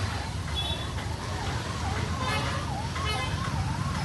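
An ambulance siren wails, rising and falling steadily over loud traffic and street noise on a road in Tumkur, with voices mixed into the din.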